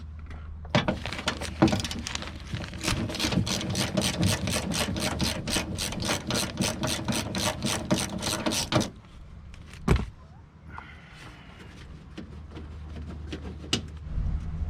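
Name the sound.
ratchet removing bolts from power window motor, 1989 Toyota Corolla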